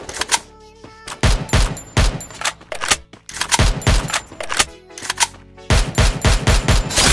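Rapid bursts of automatic gunfire from the Free Fire battle game, loud and close, firing in short volleys with brief gaps between them across the whole stretch.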